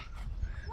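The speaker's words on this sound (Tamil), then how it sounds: "அது நாய் தான் சவுண்ட் போடுவாங்க." A small rescued puppy whimpering and yelping at close range in a brief, strained burst, with low rumbling noise underneath.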